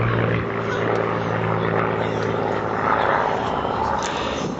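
Hawker Hurricane WW2 fighter at an airshow, its piston engine giving a steady, loud drone with low harmonic hum throughout, the pitch shifting slightly as it passes.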